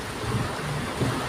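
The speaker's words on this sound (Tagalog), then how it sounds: "So grabe mga guys ang ulan." Heavy rain pours down during a storm in Baguio and Benguet, a dense, steady roar of broadband hiss that stays loud and even throughout the short stretch with no other sounds standing out.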